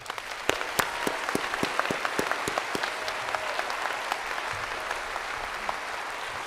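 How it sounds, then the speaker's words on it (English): An audience applauds at a summa cum laude school ceremony, a steady wash of many hands clapping with sharp individual claps near the start, fading slightly toward the end. "Another big round of applause for our students."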